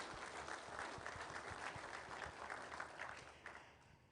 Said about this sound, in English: a big round of applause to the board for the hard work.